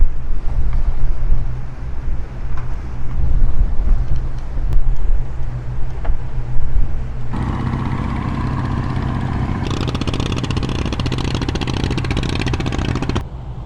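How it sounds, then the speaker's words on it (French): A push boat shoving barges on the Pará or Amazon river near Belém gives a low, steady engine rumble mixed with wind and water noise. It is heard from a sailboat, and a brighter hiss swells in the second half. "Voilà un des pousseurs de barges."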